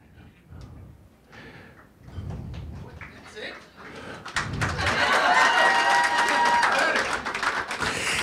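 Audience applause at an all-star and milestone reception swells from scattered early claps into dense, sustained clapping that fills the room for the last few seconds, with voices audible underneath.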